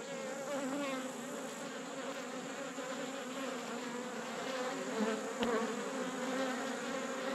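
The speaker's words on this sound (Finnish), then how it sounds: "niin kuin näette, niin täällä on mehiläistä aika hyvin." Honey bees swarm over an opened beehive during honey harvesting, a dense, continuous, close buzzing drone that holds steady for several seconds, with a brief knock partway through.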